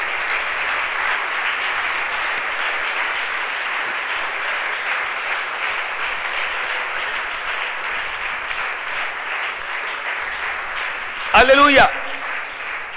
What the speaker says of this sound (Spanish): Aplauso para el que se merece la gloria.